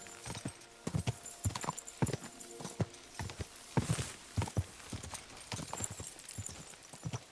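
Steady clip-clop of horse hooves at a walking pace in the video game Kingdom Come: Deliverance 2, a regular rhythm of hoofbeats over a soft background ambience.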